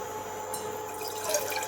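Water trickles and splashes briefly as it is poured into cooked toor dal for a sweet-and-sour Gujarati dal, a soft, close, steady liquid rush.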